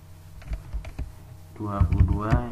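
Quick, light key taps on a laptop keyboard click out a short run of strokes, with a voice talking over the second half.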